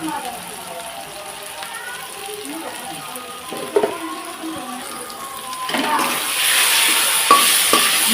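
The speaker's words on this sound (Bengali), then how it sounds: "ভালোভাবে কষিয়ে নিচ্ছি হলুদ গুঁড়ো দিয়ে দিলাম" Mutton masala with turmeric sizzles and is stirred in a pot, a soft frying hiss with occasional utensil knocks that swells louder in the final seconds, while someone talks over it.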